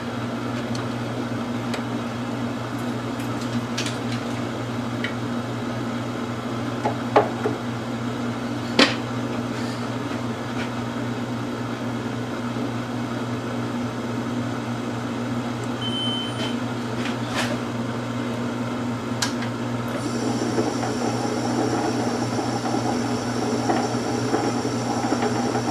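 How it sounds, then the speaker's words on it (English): A metal lathe running in back gear, a steady low mechanical hum and whine held throughout, with a few faint clicks and a higher tone joining near the end. "I'm going to be kind to my lathe. Put it in back gear."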